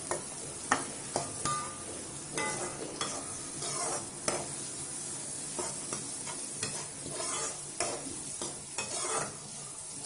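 Small onions fry and are stirred in a pan, a soft sizzle broken by repeated sharp scrapes and taps of a spoon against the pan, with no one speaking.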